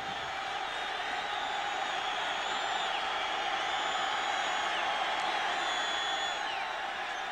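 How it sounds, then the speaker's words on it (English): A college football stadium crowd roars continuously from the end zone during a 1998 Boise State vs Idaho game, a broad sustained wash of cheering and whoops heard at a distance with faint whistles above it. "Now listen to the crowd down in that end zone"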